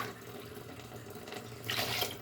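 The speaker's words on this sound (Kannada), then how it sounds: "ಈಗ ನೀರು ಹಾಕೋಣ." Water pouring into a cooking pot for jackfruit biryani, a steady tap-like stream that swells louder near the end, close by with no talk.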